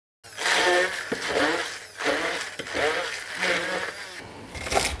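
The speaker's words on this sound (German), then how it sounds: "Dann brauchen wir einen Pürierstab." An immersion blender purees wild garlic pesto with pine nuts and oil in a measuring cup, starting abruptly and whirring in loud surging bursts that rise and dip.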